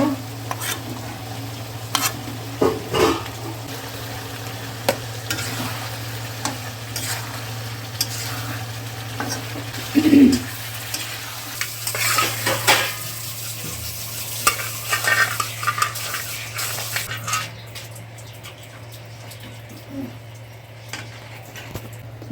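Spices and vegetables (potato, beans, vadi, cauliflower) sautéed in a pan for a koi fish curry, a low steady sizzle under repeated scraping stirs and occasional utensil clinks against the pan, close and continuous.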